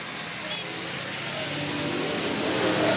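Race cars roaring around Willamette Speedway during a 1989 stock car race, two cars side by side in turn 2, engine drone steady and slowly building in loudness, with a commentator talking over it.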